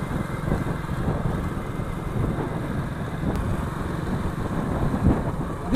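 Motorcycles ride along a road, heard as a steady, loud engine drone mixed with wind rush and road noise that carries on without a break.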